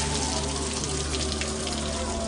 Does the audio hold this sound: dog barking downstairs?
no